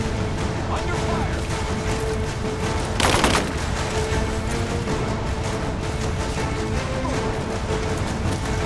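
Sustained gunfire in Rise of the Tomb Raider, a dense stream of rapid shots with a sharp louder burst near the middle, mixed with game voices and battle ambience.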